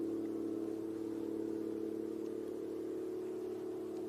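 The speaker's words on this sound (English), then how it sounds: "They got a tractor, sounds like, right at the bottom of their tree." A tractor engine hums in a steady low drone at a distance, a constant mechanical tone with little change.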